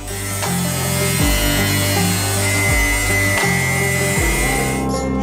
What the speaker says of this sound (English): We take our piece of metal from the machine and cut out the places for bends with a grinder.